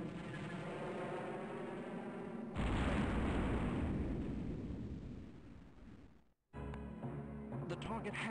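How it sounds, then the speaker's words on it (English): The Death Star blasting the planet Alderaan in a Star Wars game: a deep roaring explosion swells up, rumbles on for several seconds and fades out, before a short burst of game sound effects and music resumes. "Darth Vader unleashes the immense destructive power of the Death Star on Alderaan. Here's your explosion, Pickle."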